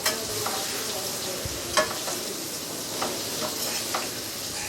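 Ivy gourd (tindora) pieces fry in a pan with a steady broadband sizzle, broken by a few scraping stirs and light clicks, close and continuous with no talk.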